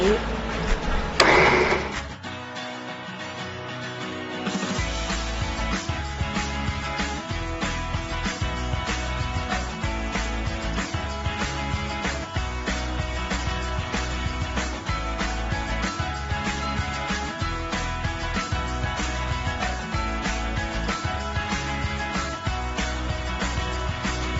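A KOMELIFE sewing machine stitches in reverse, opening with a brief clunk and then running as a steady, rapid, even mechanical whir of needle strokes that holds at a constant level to the end.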